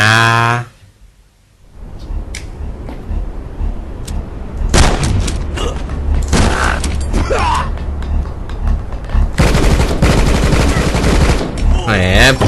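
Gunfire in the Rocket Birds video game, dense rapid bursts of shots and mechanical clatter running loud and nearly continuous after a brief quiet start, with a voice talking excitedly over it.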